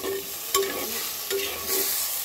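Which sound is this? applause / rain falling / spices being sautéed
spices being sautéed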